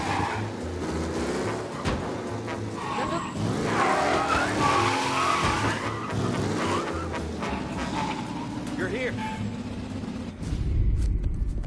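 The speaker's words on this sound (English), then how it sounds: "Be alert for a race car out on the roads tonight." A race car engine revs and roars while tires squeal and skid repeatedly, loud and continuous throughout, in the video game Mafia: Definitive Edition.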